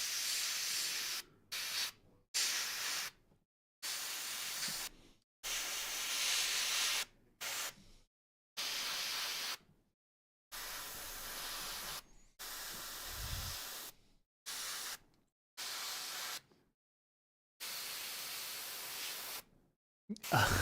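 Airbrush spraying paint onto a model vehicle, a steady hissing spray in repeated bursts of one to two seconds separated by short silences, close and fairly loud.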